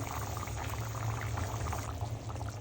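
Egg and potato curry gravy simmers in a pot with a steady low bubbling and a liquid hiss. It stays at an even level throughout, with no talk.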